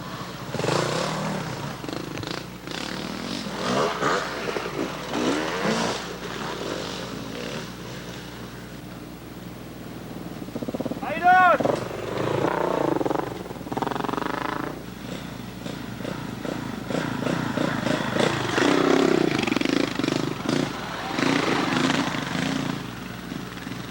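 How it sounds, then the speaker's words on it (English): Dual sport motorcycles, some of them large, ride easy wooded trails near McArthur, Ohio, in 1993. Their engines drone and rev steadily at middle distance, rising and falling as the bikes pass. "These trails are easy enough that even the biggest dual sport bikes are having a pretty easy time."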